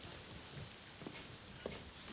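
Steady rain falls outside at night, a dense, even hiss with a few faint drip taps rising briefly above it.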